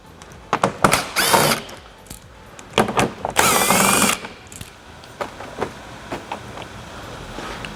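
A power drill works on the fasteners of a Toyota Supra's front bumper, giving several short, close whirring bursts with pauses and small clicks and handling noises between them.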